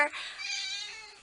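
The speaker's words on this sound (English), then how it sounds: "And Kitty's still meowing" A house cat lets out a single drawn-out meow, close and fairly clear, lasting about a second with a slight rising and falling pitch.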